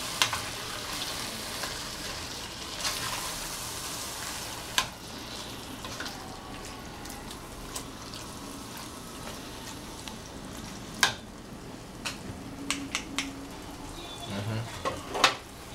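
A spoon stirs shrimp gumbo in a pot, with soft scraping, a faint sizzle and scattered sharp clinks against the pot's side, close and with no talking.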